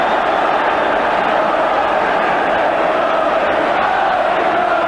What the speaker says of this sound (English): Just listen now to this Old Trafford crowd.